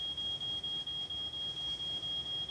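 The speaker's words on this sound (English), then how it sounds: "Rigs are equipped with H2S detectors, which activate an alarm when H2S is present." H2S gas detector alarm on a drilling rig, a continuous piercing high-pitched tone holding steady throughout over a low mechanical rumble, with no voices.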